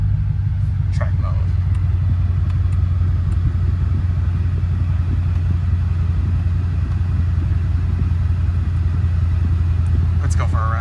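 A supercharged Cadillac CTS-V driving downtown in track mode, its engine giving a steady, loud, deep rumble heard from inside the car throughout, with no letup.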